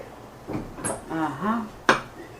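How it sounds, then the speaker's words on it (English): A lid is set onto a pot of simmering corned beef and cabbage, giving one sharp metallic clank near the end, just after a stretch of talking. "we're gonna put us a cover on it"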